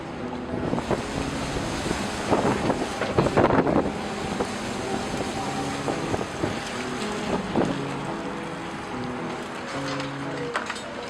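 A dredging boat with a claw passes along an Amsterdam canal. Its engine gives a steady low rumble under wind noise and scattered knocks and clanks, at moderate distance throughout.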